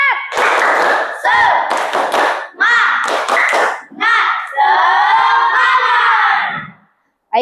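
A classroom of students performs the tepuk semangat clapping chant in bursts of rhythmic hand claps mixed with loud shouted voices, the group chanting together several times before falling quiet.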